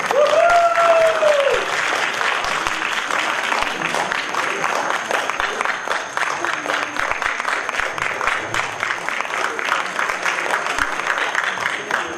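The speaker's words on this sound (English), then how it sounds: "with a loud round of applause, please welcome Dr. Punita Singh" Audience applause at a Toastmasters meeting as a speaker is welcomed on stage, a loud, sustained burst of many hands clapping, with a brief tone at the start and fairly even intensity to the end.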